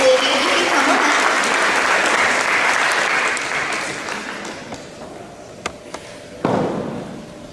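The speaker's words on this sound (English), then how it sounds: "If at this time you will give Olivia Jones a round of applause." Audience applause at a school board of education meeting honoring Olivia Jones, loud and dense at first, then thinning out into scattered claps with a few sharp thumps near the end.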